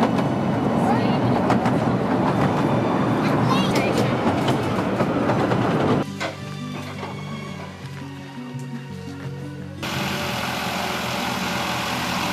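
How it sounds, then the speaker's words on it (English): A train on the Mull railway running beside the Sound of Mull gives a steady loud rumble and clatter, then a quieter idling engine hum with a faint tone, before the rumble resumes. "The trains potter slowly alongside the Sound of Mull"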